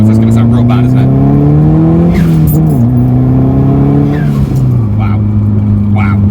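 Nissan Pulsar GTiR engine pulling hard through the gears, a loud steady drone rising in pitch with a gear change and brief dips, heard from inside the car as a voice speaks over it.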